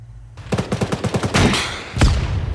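Rapid automatic gunfire rattles in a tight, loud burst during an Arma 3 firefight with an enemy BTR armored vehicle, then a heavier boom and a final blast close by.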